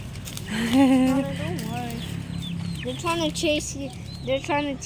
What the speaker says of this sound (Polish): Stąd dobiegają właśnie odgłosy koguta codziennie rano. Tu mamy kogutki, kaczuszki.